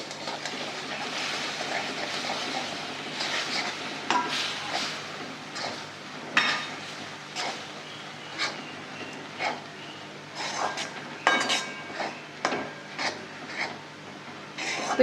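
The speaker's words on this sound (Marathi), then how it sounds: "पीठ असं सगळं एकदम छान मिक्स केलं की त्याच्यावर अगदी 1-2 मिनिट झाकण ठेवायचं" Rice flour is stirred into boiling water in a pot, giving repeated scraping, rubbing strokes of a spoon against the thick dough, quiet and close with uneven rhythm and no talking.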